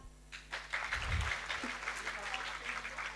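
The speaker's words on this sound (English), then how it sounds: "Then Paramita, please clap." Audience applause at a student recognition event, a soft wash of clapping from a group that continues steadily throughout, faint and somewhat distant, with a low rumble near the start.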